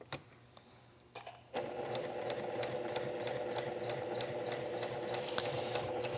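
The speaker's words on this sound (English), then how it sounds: "So I trim, again, the center at the top, and I sew down." A sewing machine stitches log cabin quilt strips, starting with a few quiet clicks before settling into a steady, close, continuous run of rapid needle strokes that carries on alone to the end.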